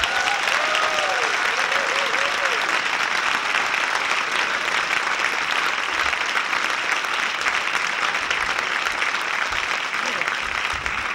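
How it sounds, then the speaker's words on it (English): A studio audience claps steadily for a stand-up comedian being introduced on a comedy TV show, dense sustained applause filling the whole stretch, with the host's voice briefly heard at the start. "put your hands together for Irwin Barker."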